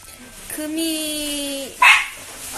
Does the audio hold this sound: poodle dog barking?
yes